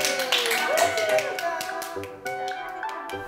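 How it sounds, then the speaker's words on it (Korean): Hands clapping on a Korean TV magazine program, a run of distinct claps mixed with tapping sounds, heard fairly close alongside voices talking. "언니 박수 쳐줘요. 박수. 박수."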